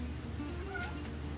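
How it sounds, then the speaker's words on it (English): A pet cat gives a short, loud, screaming meow, a single near and clear cry in a quiet room. "My cat just screamed at me"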